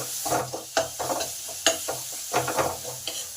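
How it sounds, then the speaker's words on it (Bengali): Ground spices with tomato frying in a pan, a spatula stirring and scraping in a quick irregular rhythm over a continuous close sizzle, with no talking. "মশলাগুলো ভালো করে কষে নিতে হবে"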